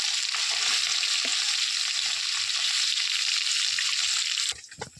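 Small bata fish frying in a pan, a steady loud hiss of sizzling oil that runs nearly throughout before dropping away near the end, with faint clinks.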